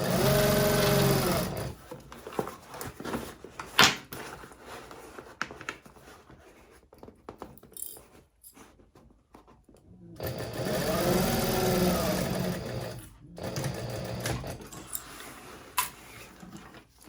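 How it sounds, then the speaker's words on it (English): A sewing machine runs a basting stitch on a handbag lining in two bursts, one at the start and a longer one in the middle, separated by quieter handling and rustling. "this is just a basting stitch"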